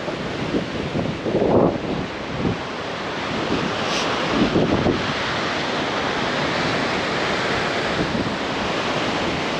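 Water rushes over the dam spillway at Yellow Creek State Park in a loud, steady roar with wind gusting against the microphone. There is no speech.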